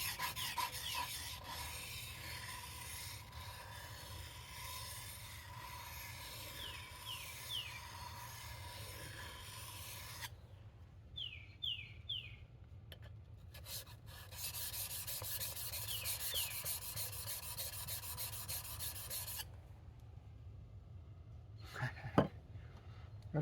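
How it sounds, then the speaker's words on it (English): A tool is sharpened on oiled sharpening stones, with repeated scraping, rasping strokes at a close, quiet level, broken by short pauses and a brief clatter near the end. "I'm getting a burr on these stones very, very quickly without any issues whatsoever"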